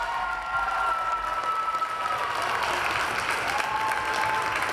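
A gym crowd at a high school girls' basketball game applauds a player, number 24, with steady, moderately loud clapping and light cheering that holds evenly throughout.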